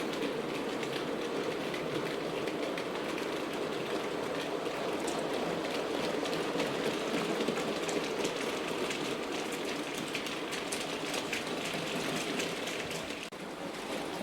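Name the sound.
Hornby R3548 model locomotive running slowly through points crossover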